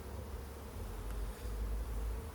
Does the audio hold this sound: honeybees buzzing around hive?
yes